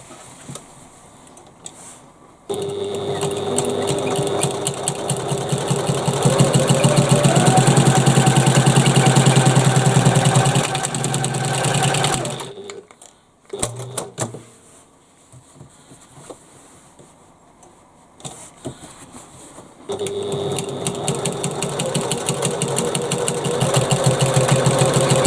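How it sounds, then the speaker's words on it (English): Sewing machine stitching the sides of a bag's pockets runs in two loud, steady whirring bursts with a buzzy motor drone, separated by a quiet pause with brief handling sounds. "all we need to do now is stitch the side of the pockets"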